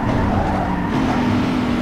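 A Nissan 350Z in Need for Speed Underground 2 drives with a loud, continuous engine drone and road rumble close up, steady throughout with no talk.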